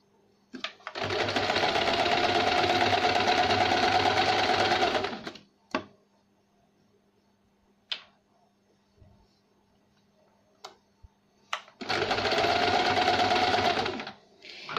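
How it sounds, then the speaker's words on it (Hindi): A sewing machine stitches a folded edge on a velvet blouse, running loud and steady in two bursts of several seconds each, with a few clicks and handling knocks in the quiet gap between. "इस तरह से फोल्ड करेंगे और इसके ऊपर एक सिलाई लगाएंगे।"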